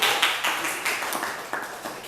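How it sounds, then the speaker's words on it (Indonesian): A small group claps hands close by, a brisk uneven patter of overlapping claps lasting a couple of seconds. "tepuk tangan dong buat Iro dan kita semua ini."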